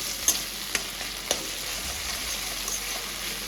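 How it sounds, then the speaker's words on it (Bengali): A spice paste of black cumin, green chilli, tomato and ginger frying in a pan, heard as a soft, steady sizzle, with a few sharp taps of a spoon being stirred against the pan. "তো দেখো মশলাটাকে ভালো করে কষিয়ে নিচ্ছি"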